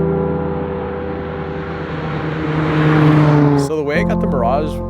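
Interior of a 1997 Mitsubishi Mirage while driving: a steady, loud engine drone with rising revs that cuts off near the end, close and continuous.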